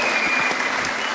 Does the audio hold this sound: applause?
yes